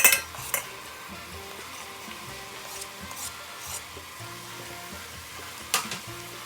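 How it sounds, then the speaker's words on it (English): Garlic and onion sauté in a pot beside a browned soup bone and roast, with a soft, steady sizzle under scraping and stirring noises and a few sharper utensil knocks against the pot. "I'm going to add in the garlic and onion to saute."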